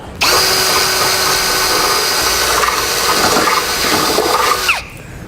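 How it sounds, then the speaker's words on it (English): A power drill whirs loudly and continuously for several seconds, with a grinding edge as a small bit drills a pilot hole in metal, then stops abruptly. "Start with a small drill bit to make a pilot hole"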